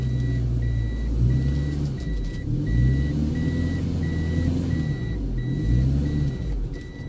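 Car engine revving in reverse while the car is stuck in mud, a rising and falling rumble in repeated surges, with a steady pulsing reversing beep over it, close and continuous.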